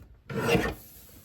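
Cardstock paper trimmed for a card kit, a single short rasping slide of a paper trimmer blade lasting about half a second, close and fairly loud, then quiet.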